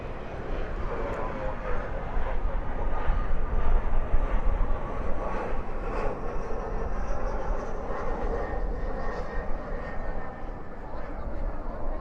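A Sun Country airliner lands at DFW airport at night with spoilers up and reversers out, giving a loud sustained roar with rumbling low end, while people talk nearby.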